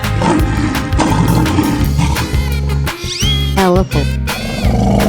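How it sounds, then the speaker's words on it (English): A lion roars in a 3D animal slide game, a rough sustained growl with rising and falling tones riding over dense, loud background music. "Lion."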